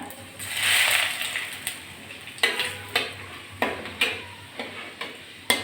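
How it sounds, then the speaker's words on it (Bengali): Panch phoron seeds and a bay leaf sputtering in hot oil, a short fizzing burst followed by a run of sharp crackling spits at uneven intervals, close and fairly quiet. "প্রথমে আমি একটু তেলের ভিতর পাঁচ ফোড়ন ফোড়ন দিচ্ছি দিয়ে দিচ্ছি তেজপাতা"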